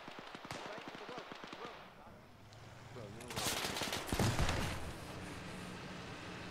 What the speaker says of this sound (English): Three bazooka shots?